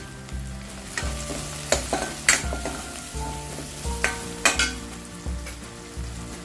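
Kashmiri chili stirred into softened tomato masala for Marathi rajma aamti crackles and sizzles in the pan, with a steady fry and repeated spoon scrapes and clinks, close and fairly loud.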